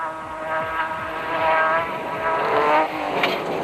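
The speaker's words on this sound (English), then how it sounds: "This is a serious racing machine." Modified Dakar rally racing vehicle with its engine moved back and roll cages fitted, its engine droning loudly and steadily with rising and falling revs, close and continuous.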